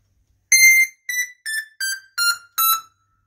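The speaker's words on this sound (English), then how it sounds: "Here's the sound of the JU06A." Roland JU-06A synthesizer playing six short bright tonal notes in a descending pattern, the first held longest and the rest clipped and evenly spaced, alone and close with no talking.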